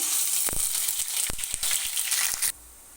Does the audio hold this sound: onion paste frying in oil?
yes